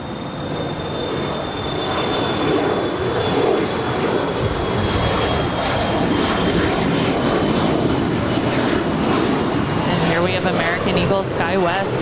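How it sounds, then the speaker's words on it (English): A SkyWest Embraer E175LR jet takes off at LAX, its engines giving a loud, sustained roar with a high whine throughout, while voices talk over it. "SkyWest 6312 off to Tucson, Arizona. It's an E175LR."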